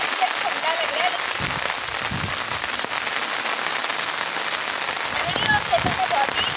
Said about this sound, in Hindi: दोस्तों बहुत ज़्यादा बारिश हो रही है और हवा भी चल रही है